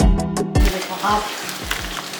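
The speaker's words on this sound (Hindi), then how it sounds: "और इस सारे मसाले डाल के अब इसको मैं फ्राई करूँगी" Chicken 65 pieces coated in spices fry in hot oil, giving a steady close sizzle with a few louder bursts of bubbling and stirring throughout.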